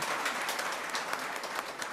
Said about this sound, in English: Ladies and gentlemen, join me with applause for the dignitaries on the dais for gracing this event.